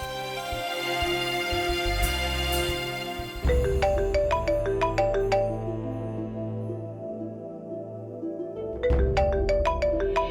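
A phone rings after a number is dialed: a looping electronic ringtone melody, steady and clear, repeating twice over a low musical backdrop.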